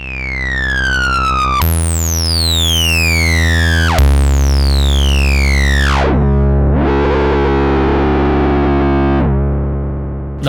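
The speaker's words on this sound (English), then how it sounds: "So everything that comes out of the filter, we can actually feed more of it to the amp stage. And this will give us another stage of distortion." A Cherry Audio software synthesizer is pushed through its amp drive distortion stage, giving loud, buzzy, harmonically rich tones that sweep downward in several falling glides, then settle into a gritty, wavering sustained tone before cutting off, with no talking.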